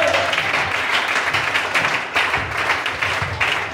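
A church congregation bursts into clapping, with brisk uneven claps and taps that rise and dip over a few seconds, no voices above them.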